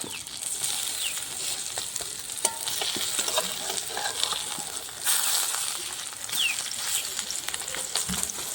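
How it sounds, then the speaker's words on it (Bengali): Pumpkin leaf paturi frying in mustard oil, a steady close sizzle with crackles and the scrape of stirring, bright spits of oil popping now and then. "দেখুন সরষের তেল দিয়ে আমি ভাজছি"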